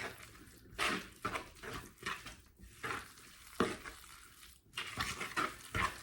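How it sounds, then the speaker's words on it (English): Tuna parcel filling with ketchup stirred in a bowl: repeated wet, squelching scrapes of a spoon in bursts, close and fairly quiet, with short pauses between strokes. "We'll also add 2 tablespoons of ketchup, and then we will mix all together."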